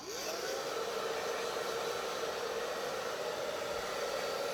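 A hair dryer blows steadily on hair set on half-inch rollers in a vintage 1920s finger wave style, a constant close whooshing hum with a faint whine that rises at the start.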